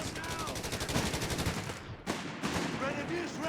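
Rapid MG-42 machine gun bursts in a Company of Heroes 3 battle, dense repeated firing with loud reports and background combat clatter running throughout, with a short gap near the middle.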